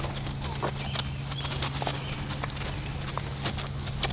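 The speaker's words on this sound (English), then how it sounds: "Lily, I'm gonna start cantering on this direction, okay?" A horse canters during a training session, its hoofbeats clip-clopping in a steady rhythm against a constant low background hum.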